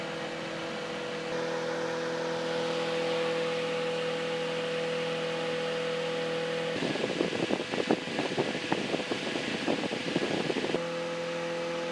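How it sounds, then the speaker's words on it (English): Small 12-volt fan powered from a 12-volt socket, a steady close whir with a faint hum, and a rougher rattling flutter partway through before it settles back to its smooth drone. "Here's a 12-volt fan running off the 12-volt socket."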